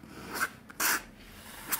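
Nib of an ÜBERflex flexible fountain pen by Peter Unbehauen scratching across paper in a few short strokes, close and quiet, separated by brief pauses.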